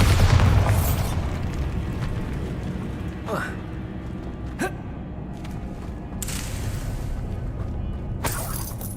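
A Bombarda spell explodes in the Hogwarts Legacy game, a loud booming blast at the start that rumbles and fades, followed by sharp whooshing spell bursts and crackles over a busy in-game backdrop.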